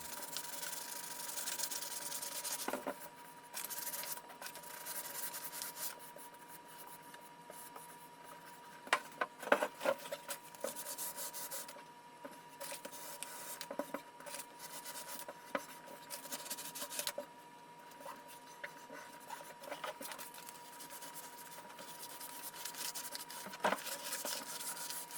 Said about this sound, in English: Alright, so now I sanded a bunch of it off